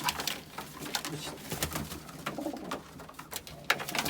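Pigeons or doves cooing inside a coop, overlapping soft calls and rustling from several birds, close and steady with faint background noise.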